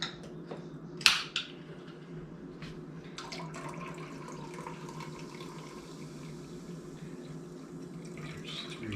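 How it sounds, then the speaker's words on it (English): Orange Crush soda is poured into a measuring cup in a kitchen, making a soft, steady fizzing splash that runs on for several seconds after a brief clink at the start, quiet and close. "So, you just dump your pop in."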